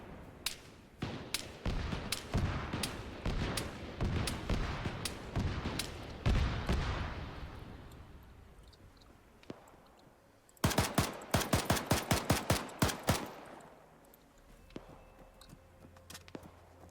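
Gunfire from the northwest in an Arma 3 military game, sharp cracks that start scattered, fade, then return as a rapid close volley of shots before quieting.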